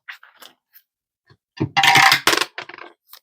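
Dice tumbling and clattering onto a surface during a cash-stuffing savings challenge, a few light taps followed by a loud burst of rattling that settles into scattered clicks, close and alone.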